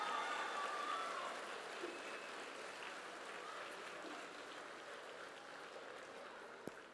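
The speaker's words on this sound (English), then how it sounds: "I think that's deserving of one more huge round of applause." Audience applause at an evening charity fundraising gala, a steady dense wash of clapping from a sizable room, heard at a distance and fairly faint, slowly tapering over several seconds with no voices on top.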